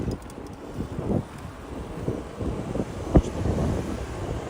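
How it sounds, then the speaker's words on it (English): Strong wind buffets the microphone during a bike ride on the Jamaica Bay Loop in New York City, a steady rumbling roar with gusty swells and one sharp knock partway through. "This wind really slowed us down today."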